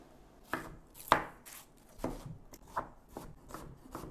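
An onion being chopped on a board with a knife, a series of about eight sharp close knocks at an uneven pace, fairly quiet and with no talk.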